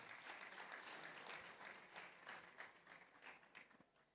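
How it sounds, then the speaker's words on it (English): An audience applauds at a school lecture series event, steady dense clapping from a crowd that holds for several seconds and slowly thins toward the end. "Give him some applause."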